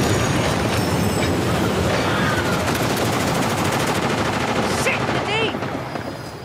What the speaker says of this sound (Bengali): ট্রেন চলে এসছে